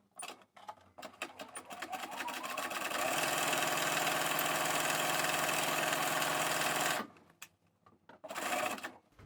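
A sewing machine runs a stretch stitch along the elastic waist of Style Falcon Diamond Hem trousers, with a few short bursts, then one long steady run of several seconds, a pause and a final short burst, all close by.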